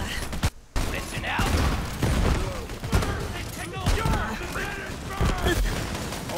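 Gunfire in the shooter game Borderlands 3, rapid bursts of shots and mechanical clatter with impacts and explosions, overlapping in-game character voices and a player talking.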